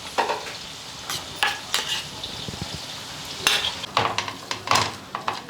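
Onion sautéed with ginger garlic paste hisses in a pan under brisk stirring, with a soft background sizzle punctuated by repeated scrapes and metallic clinks of the spoon against the pan.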